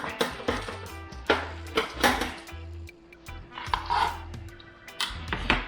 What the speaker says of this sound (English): Then I just chop this one time.